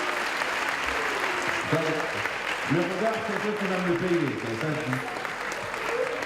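Audience applauding graduates at a vocational diploma ceremony, a steady wash of clapping running throughout while someone speaks over it near the microphone.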